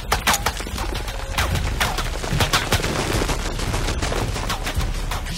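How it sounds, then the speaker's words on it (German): Gunfire in the Shadow of the Tomb Raider video game, with shots fired through a wall: a loud, continuous barrage of sharp cracks and bursts over a dense, rumbling game soundscape. "Er wird durch die Wand schießen."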